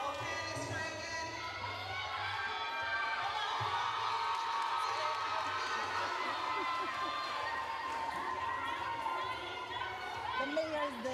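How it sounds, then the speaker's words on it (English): Crowd cheering and chattering at a youth netball final between Jamaica and Barbados, a steady dense roar with whoops and shouts rising throughout, sustained and fairly loud. "Come on, cheer them on, cheer them on."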